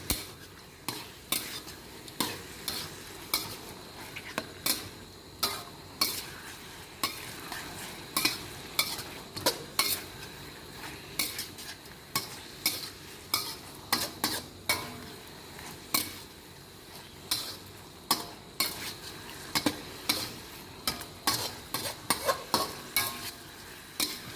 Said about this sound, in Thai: ผัดกุ้งให้สุกดีเลยค่ะ